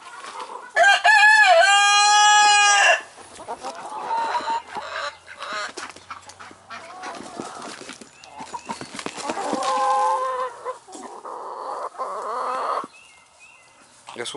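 Backyard chickens kept in coops squawk and crow loudly, one strong call near the start and more scattered clucking and honking cries later, close by with no talking.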